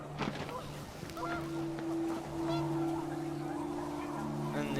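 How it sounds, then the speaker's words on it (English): Panicked geese honking in the video game What Remains of Edith Finch, a flurry of nasal calls and held honks over rushing wind, faint and somewhat distant. "The wind picked up, and panicked geese appeared and quickly went."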